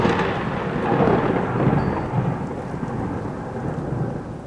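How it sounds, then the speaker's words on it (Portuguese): A heavy, continuous rumble of thunder rolls on and on under steady rain, loud and dense without letup. "ouviram um barulho que vinha lá de cima, como se muitos trovões caíssem no mesmo momento"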